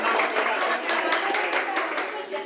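Brief applause for Beta rises in a Bible class, a small group clapping close by in a dense patter, with a voice speaking over it.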